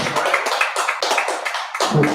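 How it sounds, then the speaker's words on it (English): Audience applause at an evening gathering, a crowd clapping in dense, sustained bursts that swell and dip over a couple of seconds with no voices on top. "So can we please give that brother a round of applause?"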